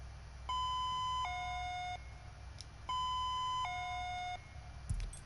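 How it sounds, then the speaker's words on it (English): An electronic two-tone police siren from a video game wails in alternating high and low pitches, cycling twice with a short pause between, clean and synthetic-sounding. "Here's the cop siren preview."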